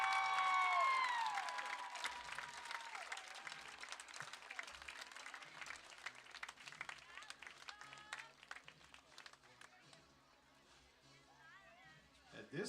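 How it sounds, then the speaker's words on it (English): A stadium crowd at a high school football game applauds and cheers for the homecoming king and queen, sustained clapping from a distance that slowly fades, with a voice over a loudspeaker and whistles at the start. "a big GPL applause for your king and queen, Matthew Moritz and Esta Cameron"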